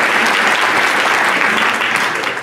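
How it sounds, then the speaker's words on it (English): A rally crowd at a climate, jobs and justice event in Montgomery County, Maryland applauds loudly, a dense, sustained wash of clapping that holds steady and starts to fade only at the very end. "So you ought to give yourselves an applause."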